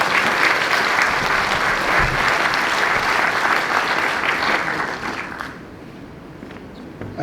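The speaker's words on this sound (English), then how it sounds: "let's give Will a nice round of applause" A concert-hall audience at a classical piano concert applauds a percussionist, a full, dense wash of clapping that holds steady and then gradually thins and fades out.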